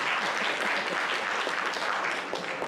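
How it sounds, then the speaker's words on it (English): A round of applause from the audience at a high school senior awards ceremony, many hands clapping in an even, sustained wash, moderately distant and without voices. "Give yourself another round of applause."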